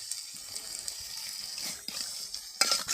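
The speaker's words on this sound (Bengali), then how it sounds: "কষান করার জন্য সামান্য পরিমাণ পানি দিয়ে নিলাম।" Water is poured into a pot of beef being cooked down with spices, giving a soft trickling, splashing flow that swells into a brief louder gush at the end.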